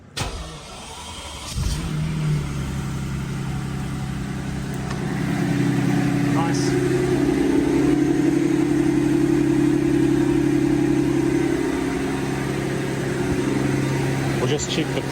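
Mercedes-Benz S600 W221 with a V12 engine starts up in a shed and settles into a steady, loud idle right up close, the car resting on lifts.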